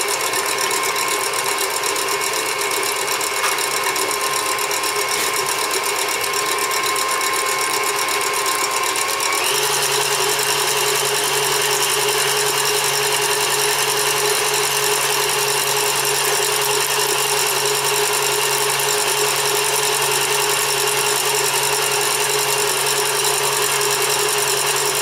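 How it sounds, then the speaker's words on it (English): An electric mixer whips egg whites with cream of tartar, a continuous close whirring drone that steps up in speed partway through and then holds a steady, louder pitch. "I've got my cream of tartar, so I'm going to turn the mixer on low and gradually increase the speed."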